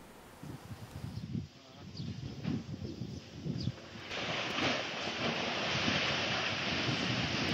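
Strong wind gusts outdoors buffeting the microphone in uneven bursts, then settling into a louder, continuous blustery roar for the last few seconds.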